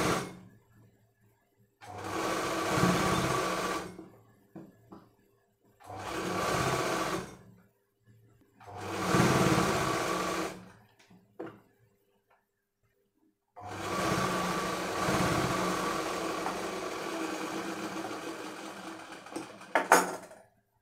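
A sewing machine stitches a dhoti pyjama in four separate bursts of close, steady whirring, with short quiet pauses between runs and a longer final run.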